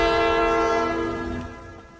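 A train horn sounds loud and sustained in a Roblox game, a steady multi-tone blare over low rumbling that slowly fades across two seconds.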